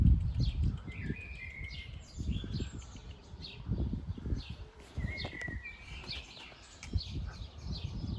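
Small birds, said to include swallows, sparrows and turtle doves, chirp and tweet around a rooftop near a walnut tree, with repeated short high calls over intermittent low rumbling, fairly faint and distant.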